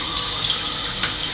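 Cold water running steadily from a tap, a close, continuous splashing hiss with no breaks and no voices.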